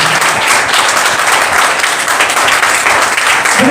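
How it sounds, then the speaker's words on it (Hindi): A church congregation bursts into loud, dense applause, many hands clapping together in a continuous roar with no pauses. "आए जोरदार तालियां"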